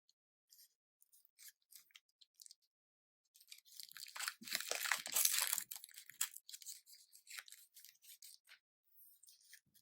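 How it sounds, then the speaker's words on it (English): Plastic and paper wrappers of a needle and syringe being torn and peeled open up close, with sharp crinkling bursts and rips, busiest in the middle, alone without talk. "Assemble your needle and syringe by opening each of the packagings"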